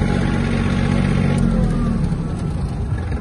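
Yanmar EF-222 Japanese mini tractor engine running while the machine turns on the spot, a steady loud mechanical drone with a slight rise and fall in pitch.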